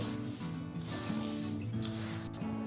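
Grated coconut is stirred and rubbed together with ladoo ingredients for a fasting-day sweet, producing a soft, continuous scraping rub in short repeated strokes, close and quiet, with no voices.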